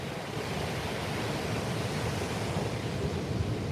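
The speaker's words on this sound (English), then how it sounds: "Look at that wave." Ocean waves breaking on an empty beach near a pier, a steady full roar of surf with wind rushing over the microphone, continuous and fairly loud throughout.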